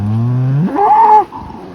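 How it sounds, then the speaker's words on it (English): A Svaneti cow in the Georgian mountains near Guebra lets out a single loud, close moo that rises in pitch and then tails off, with no talking. "Hello, you beautiful Svaneti cows."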